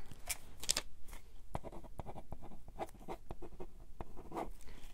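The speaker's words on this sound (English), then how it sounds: "I'm just going to write that down." A pen or pencil scratches across paper in quick, close strokes while notes are written down, soft and intimate with short pauses between marks.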